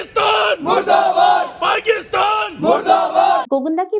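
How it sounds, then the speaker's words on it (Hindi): A large protest crowd in a procession through a town's streets chants patriotic slogans in loud, rhythmic unison, the voices swelling in repeated bursts with short gaps between calls. "वे हिंदुस्तान जिंदाबाद और पाकिस्तान मुर्दाबाद के नारे लगा रहे"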